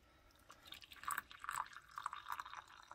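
Coffee poured from a vintage moka pot into a cup, heard as a quiet, close trickle with light drips and splashes running for about three seconds, no voices.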